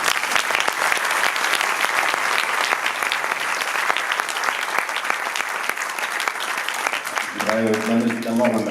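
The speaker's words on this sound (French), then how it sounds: "je pense qu'on peut les applaudir" A festival audience at the FIFIGROT 2019 ceremony applauds steadily, dense clapping filling the room at an even level before it fades and a few notes of music enter at the end.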